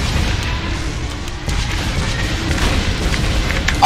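Bomb explosion in the Roblox game Tornado Alley Ultimate, a loud sustained booming rumble that stays dense throughout and swells toward the end, with no voices.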